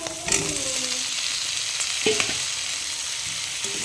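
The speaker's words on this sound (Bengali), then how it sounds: "আলু আর মটর কষানো হয়ে গেছে" Potatoes and green peas frying in a pan for a potato-pea curry, with a steady broadband sizzle and a few clear scrapes and knocks of a spatula stirring them, close and alone without talk.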